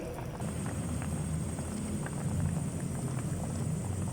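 A pot of fish soup with moringa leaves boils steadily, giving a continuous close bubbling and simmering hiss with no talk over it.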